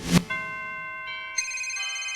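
Cell phone ringtone in a comedy sketch, a bright electronic ring that plays alone after a short thump, repeating steady tones with a second layer joining partway through.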